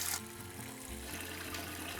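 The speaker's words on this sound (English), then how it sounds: "And then cover generously with water." Water runs into a big stock pan over roughly chopped vegetables, a steady close rushing pour with a brief splash at the start.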